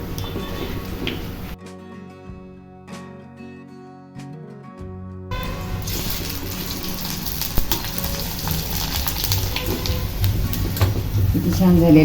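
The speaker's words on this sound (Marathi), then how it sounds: "तर आता तळून बघूया" Ragi papad fries in hot oil, a hiss that starts, drops out briefly, then returns louder and grows into a strong, steady bubbling sizzle up close.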